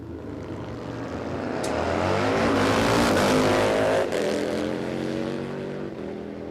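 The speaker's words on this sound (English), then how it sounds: "So it's Rochelle Strike on the Harley Davidson and Mick Mundy from STS." A Harley-Davidson motorcycle drag races a car during qualifying at a drag strip radial shootout, their engines swelling into a loud, sustained roar that peaks mid-run and then slowly fades, with no talking.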